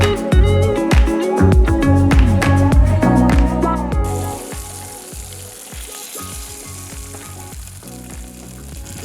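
Pieces of salted sea trout fry loudly in a hot pan, with a steady crackling sizzle and bright metallic tones over the first few seconds, then settle into a quieter, continuous sizzle.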